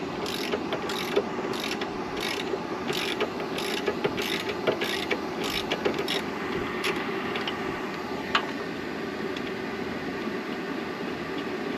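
A hand ratchet clicks rapidly in repeated bursts while removing a 13 mm nut from a Jeep Cherokee during an engine swap, close and fairly quiet, over a steady background hum, with a few sharper metallic clinks later.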